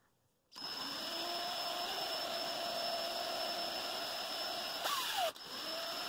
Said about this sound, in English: All right, we've got two drilled out.